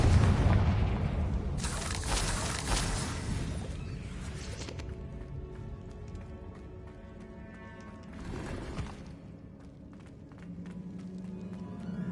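Confringo blasting spell in the Hogwarts Legacy video game: a loud booming blast with crashing debris near the start, fading into a quieter game ambience with a second, smaller impact later.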